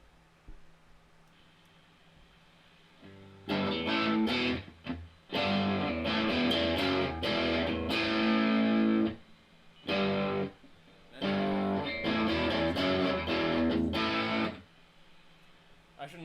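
Electric guitar run through heavy distortion, sounding in two long loud bursts of driven chords and riffs with a brief gap between them, after a quiet opening.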